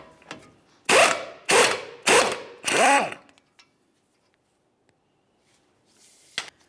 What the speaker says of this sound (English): Use a 21mm to remove the outer tie rod end nut